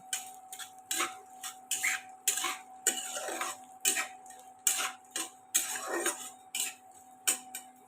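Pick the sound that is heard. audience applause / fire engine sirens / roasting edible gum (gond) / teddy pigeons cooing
roasting edible gum (gond)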